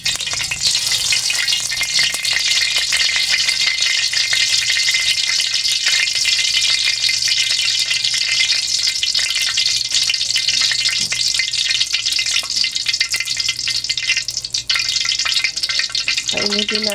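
Tofu frying in hot oil gives a loud, continuous crackling sizzle that stays dense and steady from start to finish, with a faint low hum underneath.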